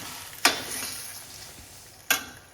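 Green beans and potatoes fry in a pan while being stirred, two quick scraping strokes standing out over a soft steady sizzle, with no talk.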